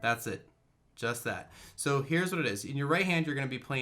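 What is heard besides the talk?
None of the usual background noises is heard.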